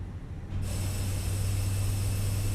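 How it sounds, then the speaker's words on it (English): Pushback tug in Microsoft Flight Simulator with a Fenix A320, a deep bassy engine drone that rises and then holds steady and continuous, fairly loud, with no talking. "There's that new tug sound."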